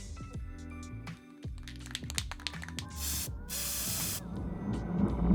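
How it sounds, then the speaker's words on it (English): Bursts of aerosol spray paint hiss out in two long blasts onto a tumbler outdoors, with clinks and handling noises between, close by and fairly loud. "take our tumbler outside and spray paint it"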